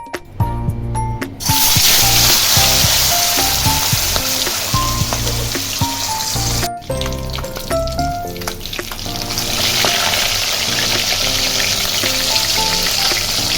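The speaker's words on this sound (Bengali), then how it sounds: "এবার মাছটাকে ভেজে নেব" Pieces of fish rubbed with salt and turmeric fry in mustard oil with a steady, loud crackling sizzle that continues throughout, while a tinkling melody plays in the background.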